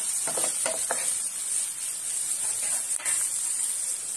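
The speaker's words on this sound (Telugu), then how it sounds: "ఆనియన్స్ ఫ్రై అవుతున్నాయి కదండి" Onions sizzling in hot oil in a pan for a home-style rajma curry, a steady broad hiss throughout with a few soft stirring scrapes near the start, close and continuous with no voices.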